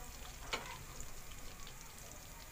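Onion frying in a pan until golden brown, a faint steady sizzle with one soft clatter of stirring near the start, heard alone at low level.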